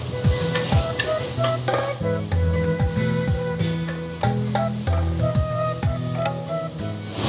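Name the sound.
onions frying in a pan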